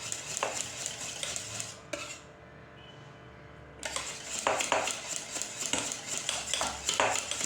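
Spoon scraping and clinking in a pot as mozzarella is stirred into cream for kunafa, steady close stirring with a short pause midway, no talk.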